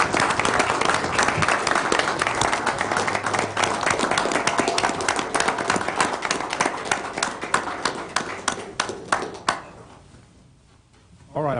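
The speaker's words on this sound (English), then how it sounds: "Let's give him a round of applause." Dense applause fills a city council meeting chamber in Glasgow for about nine seconds, then thins into scattered claps and fades to quiet room tone.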